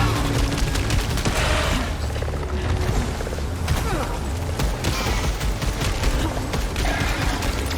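Bursts of automatic gunfire from scavengers in a survival video game, with rapid rattling shots over a busy game soundscape and a voice talking over parts of it.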